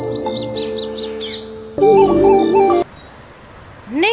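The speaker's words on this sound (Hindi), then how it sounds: "तोते की आवाज़ को टें टें करना कहते हैं" A parrot gives a run of high, chirping squawks, followed by a louder, sustained tonal call and then a brief rising squawk, all close and clear with no talking.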